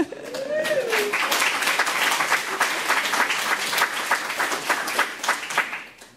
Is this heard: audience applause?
yes